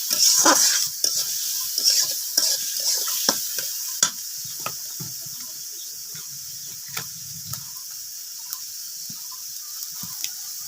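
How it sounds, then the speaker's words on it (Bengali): Spicy onion paste fries in oil with a soft, steady hiss, broken by scattered clicks and scrapes from stirring in the pan, heard alone without talk. "জাল পেস্টটা দেখেন সুন্দর করে ভাজা হয়ে গেছে"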